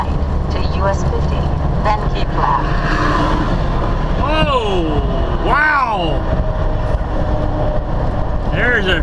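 Chevrolet Corvette racing past a truck on the highway, loud rising and falling engine whines sweeping by amid steady road and cab rumble, with someone talking over it.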